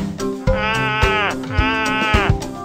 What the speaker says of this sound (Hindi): ये भेड़ की आवाज है।